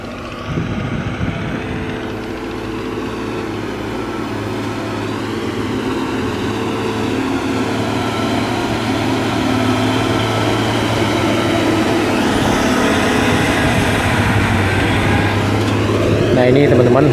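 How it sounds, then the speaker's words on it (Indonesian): Trucks hauling fill soil from Bukit Aneh rumble past on a road by the Padang–Sicincin toll road construction site, a continuous low engine drone that builds louder toward the end, with a voice speaking over it. "truk yang membawa tanah timbunan dari kawasan areal Bukit Aneh"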